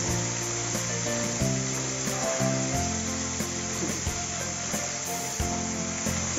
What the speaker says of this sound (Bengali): এবার আমি তেলটা গরম হয়ে গেছে, এর মধ্যে প্রথমে আমি পেঁয়াজটা ছেড়ে লাল করে ভেজে তুলে নেব।